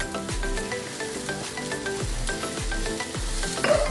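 Beef tapa sizzling in a pan with garlic and onion, a steady close frying hiss broken by regular soft scrapes of a spatula stirring the meat, no voices.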